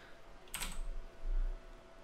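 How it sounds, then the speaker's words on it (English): A computer keyboard gives a short, quick burst of typing keystrokes, close and fairly quiet, with no talking. "If I can see my keyboard and type correctly."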